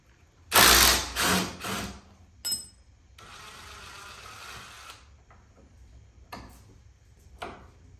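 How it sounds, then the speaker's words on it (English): An impact wrench with a 9/16 socket hammers at golf cart suspension hardware in a couple of loud, close rattling bursts, followed by a quieter whirring spin and a few scattered clicks. "using a 9/16 wrench, 9/16 socket on an impact here. Let's see if we can bust this stuff loose"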